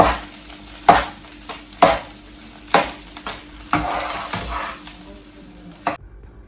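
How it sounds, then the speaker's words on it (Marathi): Puran (sweet lentil filling for puranpoli) being stirred and sautéed in a pan on low gas, with repeated scraping strokes over a steady soft sizzle, close and fairly loud, ending abruptly. "आता मला बारीक गॅसवर मी छान कॉन्स्टंट परतत राहणार."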